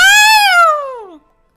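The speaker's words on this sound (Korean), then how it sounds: "고양이의 특유의 찢어지는 소리 알지?" A single loud, drawn-out cat yowl, high and strained, sliding downward in pitch before cutting off into silence.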